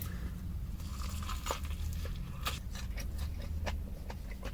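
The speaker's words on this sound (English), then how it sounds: "So much crunch, while also having a thick piece of chicken." Biting into a crunchy spicy fried chicken sandwich with a thick piece of chicken: a series of crisp, close crunches scattered over several seconds above a steady low background hum, with no talking.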